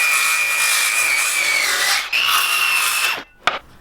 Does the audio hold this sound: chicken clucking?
no